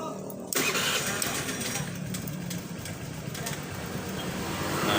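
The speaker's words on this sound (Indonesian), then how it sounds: "Nah, ini motor posisi hidup ya." A Honda Vario 110 scooter engine idles steadily at close range after a short quiet moment, a low, even mechanical hum with no throttle revving.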